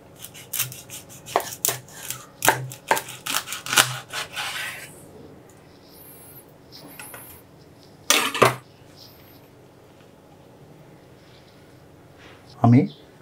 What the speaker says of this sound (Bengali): আর মাছটা আমি ডিম সহ কেটে নিচ্ছি।